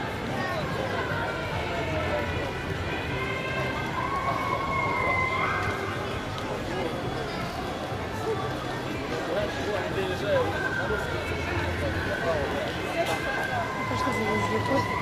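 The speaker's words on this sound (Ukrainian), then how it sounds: "Сирена." A siren wails steadily in the background amid busy crowd noise and voices at a city day vehicle show in Abakan, its tone rising and falling faintly throughout.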